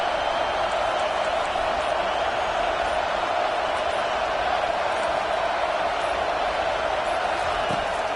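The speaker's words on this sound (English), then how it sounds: "The roar of the crowd trying to fuel this defense to keep them pinned in their own end." Steady, loud crowd roar fills a football video game stadium, a continuous dense wash of many voices with no breaks or lulls.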